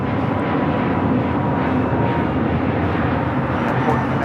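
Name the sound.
American Airlines A321neo taking off from LAX to Phoenix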